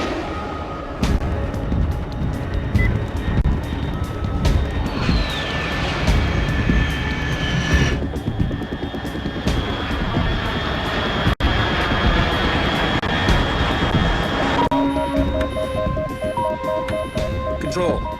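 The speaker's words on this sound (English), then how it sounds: "Unidentified aircraft detected." In Metal Gear Solid 3, an aircraft passes overhead as a steady, rumbling engine drone that fills the scene, mixed with other game effects and faint voices.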